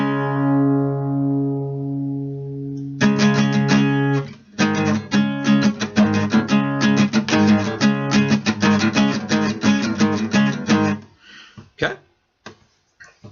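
Distorted electric guitar plays a song intro: a ringing chord, then rapid chugging strums with the top strings muted, tight and choppy, ending in a few scratchy mutes.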